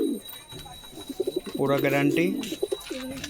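Pet pigeons cooing close by in low throaty rolling phrases, heard alongside someone talking.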